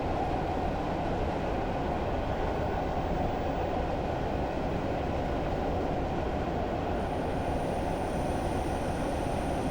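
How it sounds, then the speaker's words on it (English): A coasting train in Train Simulator 2016, on the Durham to Darlington via Bishop Auckland route, gives a steady, moderately quiet rolling rumble with a faint rhythmic wheel clatter, continuous and even throughout with no voices. "I'm just allowing the train to coast at this point"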